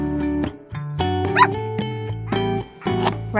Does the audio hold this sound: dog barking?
yes